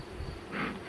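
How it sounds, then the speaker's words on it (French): Honey bees buzz around an open beehive crowded with bees on too few frames, a close, steady drone that swells briefly as one passes near. "il y a des abeilles de partout"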